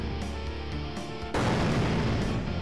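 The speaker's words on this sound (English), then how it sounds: "So damn, so many explosions." Video game explosions in Nexomon Extinction: a held electronic tone breaks into a loud, sustained rumbling blast that keeps roaring to the end.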